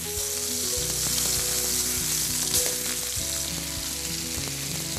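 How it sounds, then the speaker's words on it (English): Scallops with a coffee reduction sizzle steadily in butter in a skillet, a loud, continuous frying hiss with small pops and crackles throughout, heard alone without any talking. "Nice sizzle."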